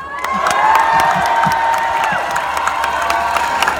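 A crowd at a Pride rally in Montpellier cheers and applauds, loud sustained clapping mixed with shouts, whistles and whoops spreading across an outdoor gathering, without any speech.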